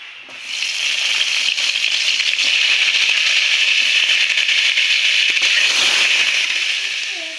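Pointed gourd pieces hit hot oil in a heated kadai and set off a loud, steady, crackling sizzle that holds evenly for several seconds, with no voices over it.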